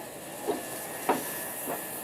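A Chinese Shangyou type steam locomotive gives three soft, evenly spaced chuffs about half a second apart over a steady background hiss of steam, heard at moderate distance with no voices.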